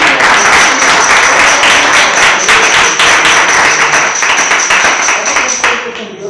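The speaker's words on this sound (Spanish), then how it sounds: "Dale un aplauso a Cristo Jesús." Church congregation at a Sunday worship service claps loudly and steadily in praise, dense close applause for the full stretch before easing off at the end.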